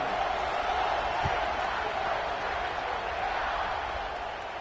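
Just before kickoff at an Ohio State football game, a large stadium crowd cheers and claps in a broad, even roar heard from a distance, fading slightly toward the end, with talk faintly underneath.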